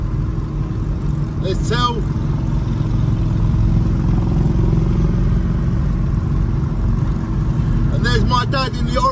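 A Harley-Davidson motorcycle on a rally road trip overtaking a group of riders, a loud, close, steady engine rumble that swells midway, with brief talk at the start and near the end.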